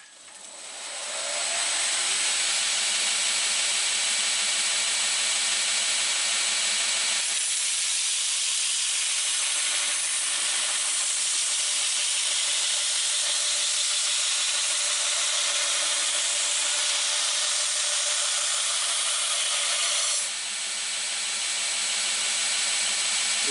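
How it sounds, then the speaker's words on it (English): A belt grinder with a coarse belt rough-shapes a steel blade cut from an old fence post, a loud steady hiss and grinding roar that holds for about twenty seconds and eases slightly partway through. "I'll of course be starting on the coarsest grinding belt I've got to do this rough shaping"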